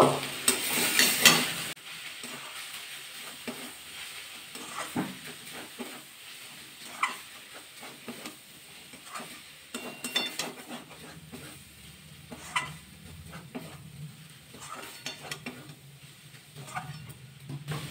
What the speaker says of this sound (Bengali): মুগ ডালটা দিয়ে দেবো, দিয়ে আবার একটু নাড়াচাড়া করে নেব।